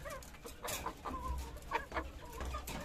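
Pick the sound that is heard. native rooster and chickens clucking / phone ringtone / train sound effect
native rooster and chickens clucking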